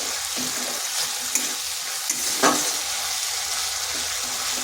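Tomato sautéing with spices in a pan for a vegetarian fig (dumur) dish, a steady close sizzle with a few sharp scraping stirs and clicks, no talking.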